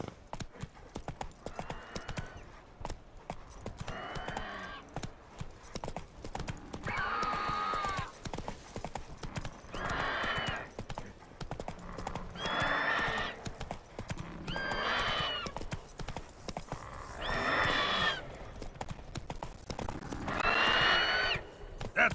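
Roach, a horse in The Witcher 3, gallops with repeated bursts of rhythmic hoof clip-clops, fairly quiet, over a soft game background.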